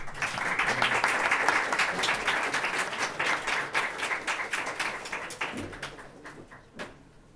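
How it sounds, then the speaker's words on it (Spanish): An audience at a book presentation in València applauds a speaker, dense steady clapping that starts loud and gradually thins out, ending in a few scattered claps. "Un aplauso para él."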